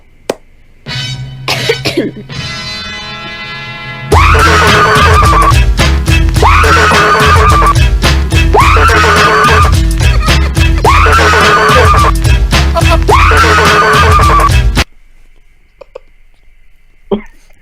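A loud, distorted woman's scream is chopped and looped over heavy pounding beats, repeating about five times before cutting to near silence.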